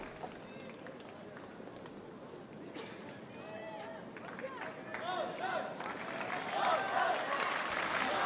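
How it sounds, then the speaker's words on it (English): A tennis crowd at the 2009 French Open round of 16, Federer against Haas, applauds in a steady wash of clapping that swells toward the end, with a voice talking over it. "the crowd desperate to get behind Federer now"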